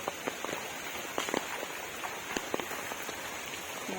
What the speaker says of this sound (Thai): ฝนตกหนักนะคะ ทั้งคืนเลยนะคะ